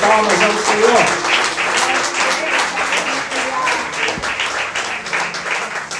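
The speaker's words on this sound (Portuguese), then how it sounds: "Uma salva de palmas ao Senhor" Church congregation applauding the Lord at a Nova Vida service, loud sustained clapping with voices and cheers mixed in, gradually easing off.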